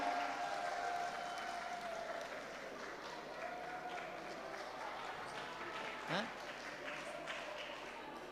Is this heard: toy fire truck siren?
no